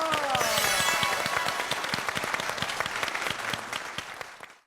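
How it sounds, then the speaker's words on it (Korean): A burst of loud studio audience applause welcoming a lecturer on a Korean TV talk show, many hands clapping densely at first, then gradually thinning and fading out. "여러분 큰 박수로 맞이해주세요."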